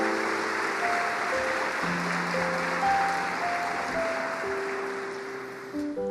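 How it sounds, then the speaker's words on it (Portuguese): A church congregation applauds with steady, sustained clapping from many people while sustained keyboard or organ notes play beneath, the clapping continuous and moderately loud throughout. "Você pode dar um aplauso a Ele?"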